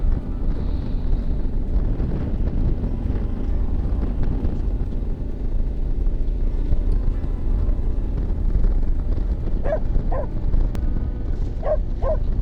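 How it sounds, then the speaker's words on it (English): Several short dog barks come from a farm in cold, windy countryside, a few scattered yaps late on, faint and distant beneath constant loud wind rumble. "Another dog."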